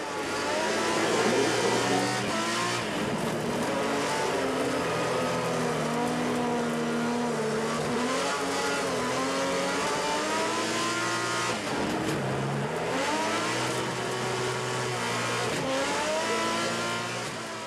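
Onboard a race car on a pole-position qualifying lap in Trophée Andros ice racing, the engine howls and revs steadily throughout, rising and falling with gear changes, loud and close.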